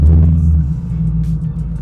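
A 2016 Ford Mustang engine starts and settles into a loud, close, steady low idle rumble with a throbbing hum, no talk.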